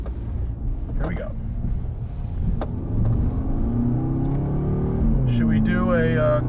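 A 2022 Audi S3 rolls slowly through a U-turn on a road with a bit of mud, its low engine rumble steady and close while a person talks over it throughout.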